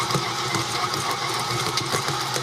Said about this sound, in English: very slowly, I'm going to turn on this mixer